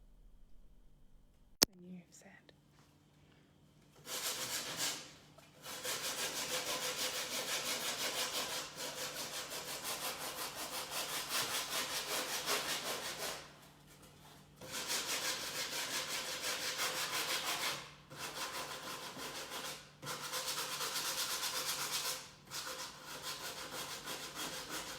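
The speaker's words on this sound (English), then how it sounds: "Next, what I will be doing is I will use sandpaper. This is 100 grit, also Hamilton sandpaper." A wooden block is hand sanded with 100 grit Hamilton sandpaper, giving loud close rasping strokes in long bursts separated by brief pauses.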